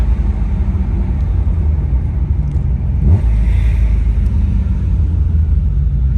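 A loud BMW M5 engine fitted with individual throttle bodies rumbles steadily at idle, then swells a little as it revs up and holds, close by and dominating.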